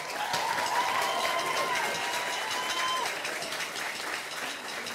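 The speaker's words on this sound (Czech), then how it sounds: "Ještě jednou velký potlesk, prosím." Sustained audience applause with some cheering for contestants at a cosplay competition during an anime convention, a dense, steady clatter of many hands at moderate loudness that slowly eases toward the end.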